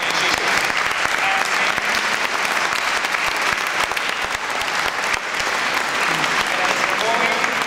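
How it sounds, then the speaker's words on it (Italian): An audience claps loudly and steadily at a choir concert in front of a nativity scene, dense applause filling the whole stretch without letting up. "un applauso lo merita il nostro pubblico"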